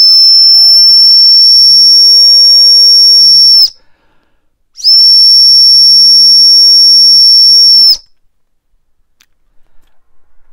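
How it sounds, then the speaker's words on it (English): A piercing, steady high-pitched whistle from a tactical pen blows twice, each blast lasting several seconds, with a short silence between and faint noise after. "let's test out the whistle."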